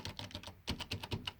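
Rapid typing on the small, roughly 75%-size keyboard of an Apple eMate 300, crisp close key clicks in uneven bursts with a brief pause midway, heard alone.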